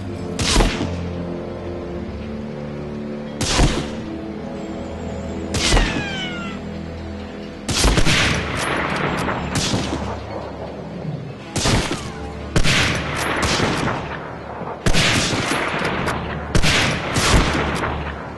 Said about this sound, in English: Let's see how useful the sniper rifle is.